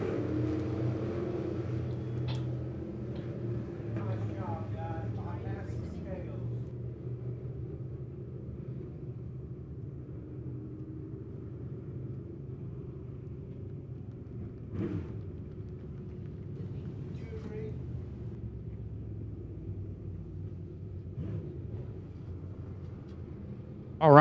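Midwest modified race cars run a heat at Lebanon Midway Speedway, a steady low engine rumble droning from a distance with no clear passes standing out, fairly constant in level throughout.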